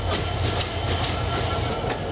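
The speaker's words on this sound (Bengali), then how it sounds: "এই ট্রেনটি শান্তাহাট থেকে খুলনার উদ্দেশ্যে রওনা দিল" The Khulna Simanta Express pulls out of Santahar junction, its wheels beating a rapid, regular clickety-clack over the rail joints at close range, loud against a low rumbling undertone.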